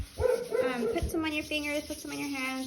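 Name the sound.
dog barking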